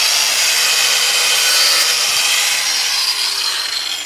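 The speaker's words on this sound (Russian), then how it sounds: "Еще раз отпилим." A handsaw cuts steadily through wood while making plant guards, giving a continuous hissing, rasping scrape with no break in the strokes.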